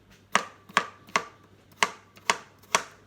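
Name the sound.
chopping roasted pumpkin into smaller chunks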